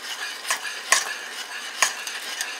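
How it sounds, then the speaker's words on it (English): Blueberry and black currant jam comes to a boil in a pot while it is stirred, giving soft bubbling and a hiss broken by a few light spoon clinks against the pan, close and fairly quiet. "It's at a simmer and here comes the boil."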